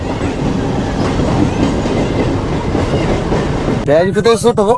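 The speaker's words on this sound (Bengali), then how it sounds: "রেল স্টেশনের রেল গেটে আছি এই যে ওই দিকটা হচ্ছে দিগনগর আর ট্রেন চলে যাচ্ছে এখন" A train rolls past a railway level crossing at a station gate toward Diganagar, a loud steady rumble with wheel clatter throughout, then voices chatter close by in the final second.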